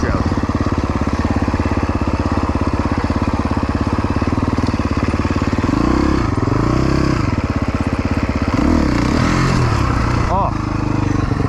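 A 4-stroke dirt bike engine chugs and revs steadily while riding off-road, loud and close, with the pitch rising and falling as the throttle changes, a rider talking faintly over the engine noise.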